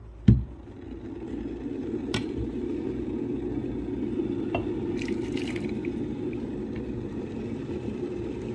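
After one soft knock, water runs steadily over a coffee filter during a quick rinse, a faint, even trickle and drip that continues alone throughout.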